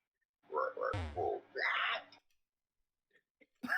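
A voice imitates a frog with a couple of short, throaty croaks close to the microphone, followed by silence and a faint click or two.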